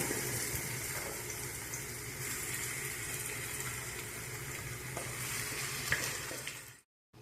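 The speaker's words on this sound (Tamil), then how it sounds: "இந்த அரைச்ச விழுதை ஊற்றி கொஞ்சம் கிளறிக்கிறேன்." A ground lentil paste being stirred into a tempered mixture with curry leaves in a hot pan for paruppu urundai kuzhambu, a steady sizzle with scraping strokes throughout, ending in a brief cutoff.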